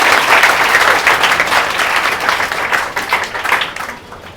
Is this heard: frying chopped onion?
no